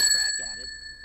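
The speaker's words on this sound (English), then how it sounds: "What the fuck are these bell sounds coming from?" High, sustained bell ringing in a game, bright clear tones that hang and fade steadily, with a voice briefly talking beneath.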